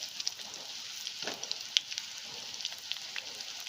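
Cut yellow pumpkin sautés in a frying pan with curry leaves, giving a soft, steady sizzle with light crackles and occasional pops, fairly quiet and close, with no talking.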